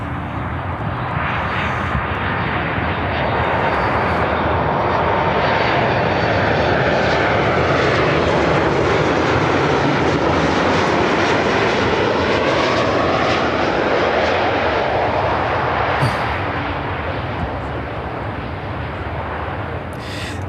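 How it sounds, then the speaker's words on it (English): United Airlines Boeing 737 MAX 8 arriving at Chicago O'Hare from Raleigh-Durham, a loud sustained jet roar that swells toward the middle as the plane passes close, then eases slightly, with no talk. "This is United Airlines Flight 1878 coming in from Raleigh, Durham on a MAX 8"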